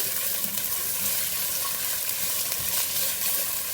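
Onions sizzle and fry steadily in hot oil in a pan, a dense, continuous crackling hiss that stays close and loud throughout with no talking.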